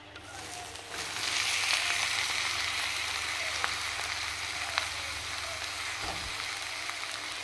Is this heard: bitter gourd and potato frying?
yes